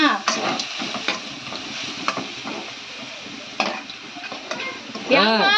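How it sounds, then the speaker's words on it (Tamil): Chana dal, onion, mustard seeds and chillies are sautéed in a pan, with a close crackling sizzle broken by repeated sharp stirring scrapes and clacks. A brief whistling squeal rises at the end. "கடலைப்பருப்பு வெங்காயம் கடுகு மிளகாய் எல்லாம் சேர்த்து வந்து வதக்கியிருக்கேன்"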